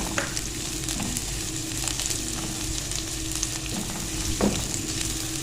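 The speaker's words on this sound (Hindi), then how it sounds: "साथ ही हम इसमें डाल देंगे सब्ज़ मिर्चें, ताकि ये तीनों चीज़ें जो हैं ये एक साथ बहुत अच्छे से भून जाए" Finely chopped onion sizzles steadily in hot oil in a pan, with green chillies added, making a continuous close crackling hiss with scattered small pops and no voices.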